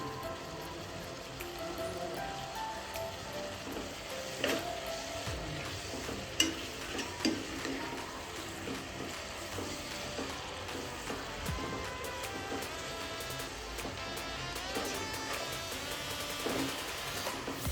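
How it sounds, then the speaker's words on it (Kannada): Tomatoes fry in a pan with a little turmeric for egg bhurji, a steady soft sizzle running throughout with occasional scraping and clinking of a spoon as they are stirred, no voices. "ಈ ಟೊಮೊಟೊ ಸ್ವಲ್ಪ ಸಾಫ್ಟ್ ಆಗೋ ತನಕ ಫ್ರೈ ಮಾಡೋಣ."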